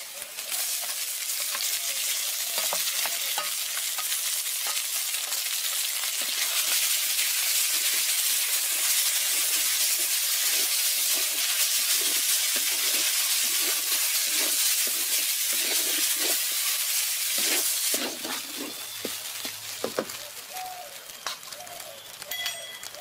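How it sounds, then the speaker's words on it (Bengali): Deboned fish fries in a pan with a steady, loud sizzle and crackle, with occasional stirring scrapes, fading to quieter sizzling near the end. "এখন আমি কাঁটা ছাড়ানো মাছগুলো দিয়ে দিচ্ছি।"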